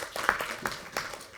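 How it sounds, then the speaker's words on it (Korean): Applause at a political party preparatory committee meeting, a short burst of scattered clapping from a small group, fairly close, with individual claps audible. "박수로"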